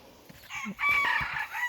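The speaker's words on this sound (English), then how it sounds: "That little rooster, man, he's just trying to find his voice" A young rooster crows once, a short, strained and slightly cracking call, fairly close, over quiet background.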